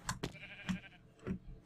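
Sheep in Minecraft bleating, several short, quiet nasal bleats in quick succession, heard close and alone with no talking.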